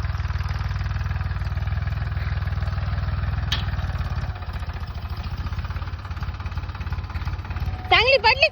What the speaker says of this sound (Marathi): ट्रॅक्टर इकडून सरीपाडीत गेला आणि इकडून सरीपाडीत आलाय.